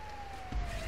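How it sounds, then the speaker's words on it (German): An ambulance siren sounds as a steady, fairly loud wailing tone over a low background rumble, with a brief thump near the end. "Ich seh den Krankenwagen vor mir."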